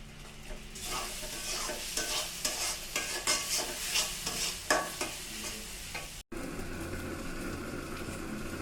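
Ground roasted cumin and dry spices fry in a pan while a utensil stirs them in repeated scraping strokes over a soft, steady sizzle. A brief dropout near the end is followed by a louder, fuller sizzle.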